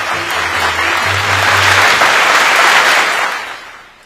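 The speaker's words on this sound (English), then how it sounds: "Clap for them." A large crowd at a university graduation ceremony applauds graduating nurses, producing a loud, dense wash of clapping that swells and then tapers off near the end.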